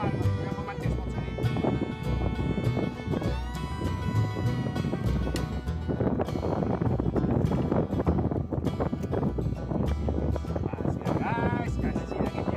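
Strong wind roars and buffets the microphone on a fishing boat at sea, a constant loud rush with engine rumble underneath and people talking over it.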